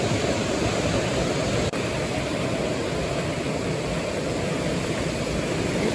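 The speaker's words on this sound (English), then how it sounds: "A lot of water coming over this bridge." Floodwater pours over a concrete creek bridge at a ranch after heavy rain, a loud, steady broadband rush that holds unbroken and close throughout.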